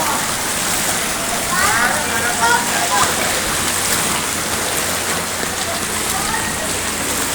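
Heavy rain from Typhoon Kristine pours down in a village as a loud, continuous hiss of rainfall on surfaces, with faint voices in the background.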